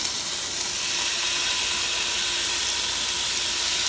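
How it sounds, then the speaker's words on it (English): Flank steak sizzling on a hot Ninja Foodi indoor grill, a steady close hiss of frying fat holding evenly throughout with no voices. "let's see if we get a little bit of sizzle this time"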